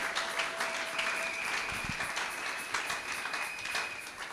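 Church congregation applauding and cheering during a Sunday worship service, a steady wash of many hands clapping with crowd noise throughout, a sustained tone running underneath.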